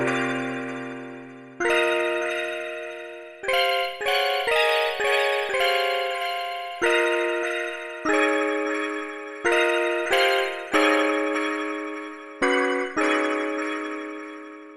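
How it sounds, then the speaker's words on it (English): Layered synthesizer keys playing a series of sustained chords, each struck with a bright attack and trailing into delay echoes and reverb, about a dozen chord changes with some quick repeated hits in the middle, no voices. "And now all of these sounds together through a bit of delay and reverb sounds like this."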